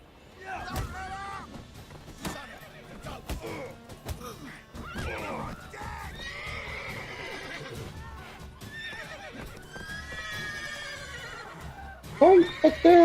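A horse in The Witcher 3: Wild Hunt neighs and whinnies repeatedly, mixed with hoof clip-clops and scuffling, while someone talks over parts of it. A loud, shrill whinny comes near the end.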